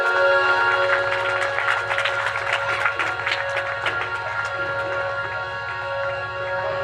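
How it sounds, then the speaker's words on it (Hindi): Sustained applause from a crowd at a religious stage event, a dense wash of clapping over a steady low hum and music drone, loud and continuous throughout. "और तालियां आपकी जोरदार हो जाए।"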